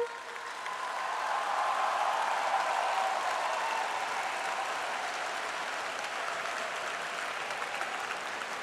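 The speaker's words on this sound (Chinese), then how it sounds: "让我们以最热烈的掌声恭喜全体毕业生。" Graduates are applauded at the National Taiwan University commencement ceremony, a large hall audience clapping steadily and densely for several seconds, moderately loud and sustained without voices on top.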